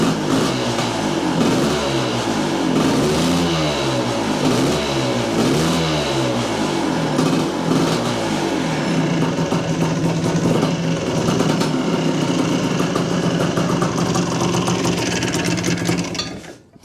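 An IT400 motorcycle engine revs in loud, rising and falling bursts for several seconds, then settles into a steady, somewhat rough idle that continues close up before cutting off at the end.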